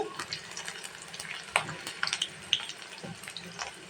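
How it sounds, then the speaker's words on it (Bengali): Chopped onions sizzle in oil in a wok for a chicken curry, a soft, steady frying crackle broken by sharp clicks and scrapes of a spatula stirring at close range. "আমি কড়াইতে অলরেডি পেঁয়াজের কুচি দিয়ে দিয়েছি। এটাকে আমি ভেজে নিচ্ছি।"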